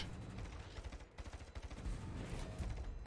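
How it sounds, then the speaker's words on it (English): Guns on the Swedish destroyer Västerås fire in World of Warships, a rapid run of deep booming shots in a steady rhythm, fairly faint and with no voices. "Captain opens fire and launches narrow spread on his target."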